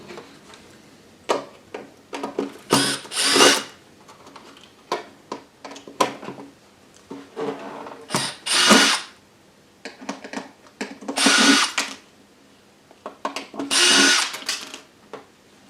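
A power screwdriver backs screws out of a Technics SX KN-5000 keyboard panel, with repeated short whirring bursts separated by clicks and handling noises, close and fairly loud.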